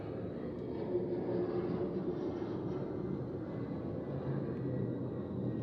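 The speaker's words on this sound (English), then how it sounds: "The plane is taking off the other direction." A plane takes off in the distance beside a rainy roadside, heard as a steady, low, broad roar that holds level throughout, moderately faint with no talk over it.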